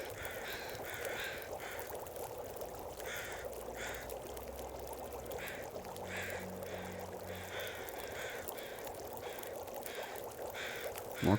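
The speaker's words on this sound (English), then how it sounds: "More crows across the way." Crows caw in The Long Dark's DeadWorld, harsh calls repeating in short bursts from across the way over a steady ambient wind bed, with no talk.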